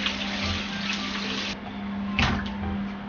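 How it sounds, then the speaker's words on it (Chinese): A fish head rinsed under running tap water in a kitchen, with a steady close rush and splash of flowing water and a low hum beneath. "直接用流水冲"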